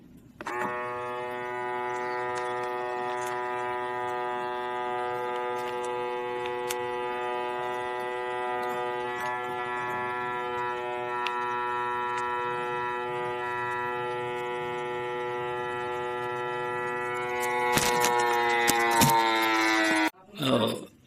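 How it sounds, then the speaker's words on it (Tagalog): A vacuum sealer machine draws air from a bag of meat with a steady, close motor hum and whine for about twenty seconds, rising in pitch near the end before clicking off. "Akin ang ilalagay dito sa vacuum machine. Ayan, iba-vacuum seal na natin."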